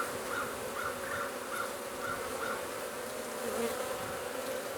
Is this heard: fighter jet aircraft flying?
no